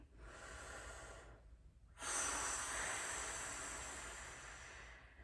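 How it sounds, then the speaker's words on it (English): A slow, deep breath drawn in, a brief pause, then a long, steady push of air out, close and breathy, during a French horn lesson. "breathe in deep and then flex our tummy muscles and push our air out"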